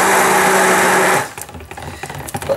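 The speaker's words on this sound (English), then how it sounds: "always stir it with your stick blender" A stick blender whirs steadily in handmade lavender soap mixture for just over a second, then cuts off, leaving faint clicks and handling noises nearby.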